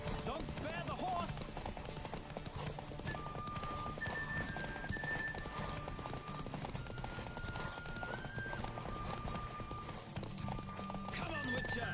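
Rapid, steady hoofbeats of a horse galloping in the video game Witcher III, with whinnies, continuous throughout under game music and a person talking.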